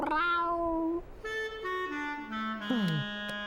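A cat meows several times in a row, drawn-out, pitch-sliding cries, close and fairly loud with no talking.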